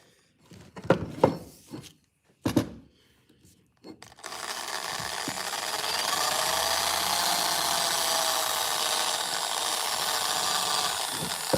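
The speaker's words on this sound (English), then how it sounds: "Yeah, just a light wire brushing. I'm not putting a lot of pressure on that." An axe head being lightly wire brushed during a refurbishment, a steady bristly scrubbing that starts abruptly after a few seconds of brief knocks and continues evenly and fairly close until the end.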